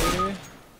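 A single gunshot in Counter-Strike: Global Offensive, a sharp loud crack at the very start that rings out briefly and decays within half a second, with no other sounds.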